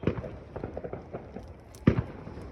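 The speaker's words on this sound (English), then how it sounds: "there's like fireworks everywhere" Fireworks exploding outdoors around a Fourth of July celebration, scattered distant pops and crackles across the clip followed by one louder, nearer boom near the end, fairly faint overall.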